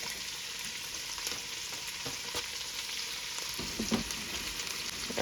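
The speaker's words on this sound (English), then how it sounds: "we're gonna hear that nice sizzle, get this in." Food frying in a pan on the stove gives a steady, soft crackling sizzle throughout, with a few light scraping or stirring sounds near the end; no talking.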